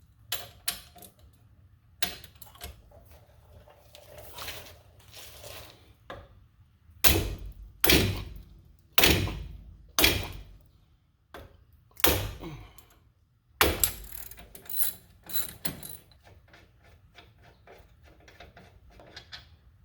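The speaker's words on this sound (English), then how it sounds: "19mm socket and your ratchet" Ratchet fitted with a 19mm socket loosens brake caliper bracket bolts on a Mazda CX9, giving a series of sharp, close clicking bursts in uneven groups with brief pauses between them.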